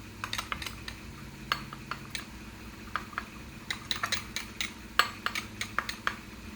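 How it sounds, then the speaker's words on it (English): A lumpy batch mixed until smooth in a workshop, stirred like gravy: irregular sharp clicks and taps of the mixing tool against its container, close and fairly quiet, with no speech. "just mixing this up till we get all the lumps out of it"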